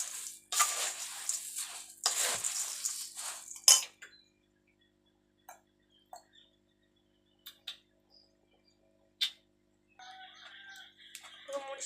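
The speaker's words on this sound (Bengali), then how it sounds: "ভালোভাবে এটা মাখিয়ে নেব।" Jhal muri being mixed, puffed rice tossed with chopped chilli and cucumber in a bowl, giving a close, dry rustling and scraping burst for a few seconds, then faint scattered clinks and light taps.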